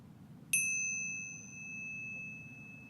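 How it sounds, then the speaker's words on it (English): A meditation bell struck once, a bright clear ding that rings on and slowly fades over a quiet room. "I'm using the bells just to signal the beginning and end of our brief practice today."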